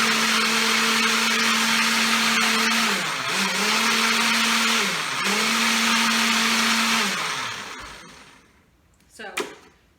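Kitchen blender purees baby food with a loud, harsh whir that dips in pitch twice as the load shifts, then winds down and stops, followed by a short clatter.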